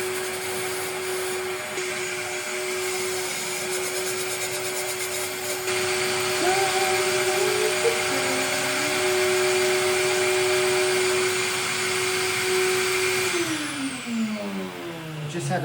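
A Serdi 3 valve seat machine cutting old valve seat inserts out of a cylinder head, a loud sustained whining drone with a steady motor tone that shifts pitch partway through and winds down near the end, close and continuous.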